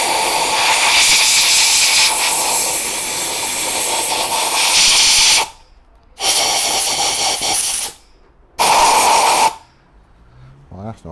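Loud, close rush of compressed air blasting grit out of a Suzuki Bandit fuel tank during tank-liner prep: one long continuous hiss, then two shorter bursts separated by silence.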